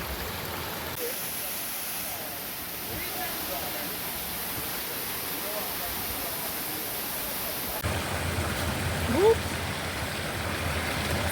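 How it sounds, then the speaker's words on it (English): The Falling Edge Waterfalls in St. Andrew, Jamaica, roar as a steady, faint broadband rush of falling water, with a brief sharp sound near the end and no clear talking over it. "This is the Falling Edge Waterfalls"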